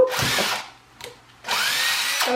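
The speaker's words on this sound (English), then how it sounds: "we're gonna do like a little bit of a pre-drill" A power drill pre-drills into wood for a garden sign, two loud whining bursts of spinning bit with a quieter gap between them, no talking.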